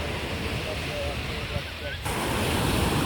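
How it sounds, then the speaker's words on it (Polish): Surf washing onto a beach in summer, a broad steady wash of noise with a ship passing offshore, carried on wind that buffets the microphone and swells louder partway through. "Zobaczcie, jaka piękna plaża."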